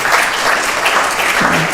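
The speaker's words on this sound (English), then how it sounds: "So big round of applause to all the parents and teachers as well." An audience applauds parents and teachers after a class performance, a loud dense wash of clapping throughout.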